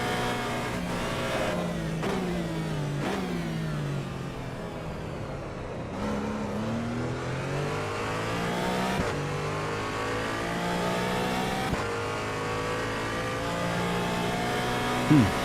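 A GT4 race car on slick tyres in the Assetto Corsa EVO racing game, engine revving hard and climbing through the gears with clear shift drops, loud and continuous throughout.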